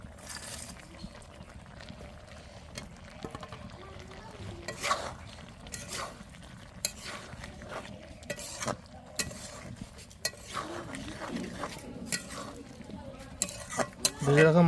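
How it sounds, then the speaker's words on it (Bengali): Small fried fish are stirred in a cooking pan, producing gentle intermittent scraping and clanking of a spatula against metal over a quiet sizzle, with occasional faint talk nearby. "ভেজে রাখা মাছগুলো দেওয়ার পর কিছুক্ষণ হালকাভাবে এভাবে নাড়াচাড়া করতে হবে।"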